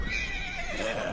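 A horse in a PS4 video game gives a short, close, high whinny against a soft background.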